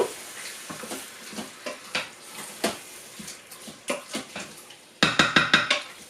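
Gizzards being mixed in a cooking pan: a spoon scrapes and clinks against the pan in irregular strokes over a faint sizzle, closing with a sharper burst of metallic scraping.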